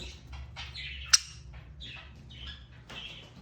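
A pet bird gives a run of short chirping calls in a room, several bursts spread across a few seconds with one sharp click partway through, over a low steady background hum.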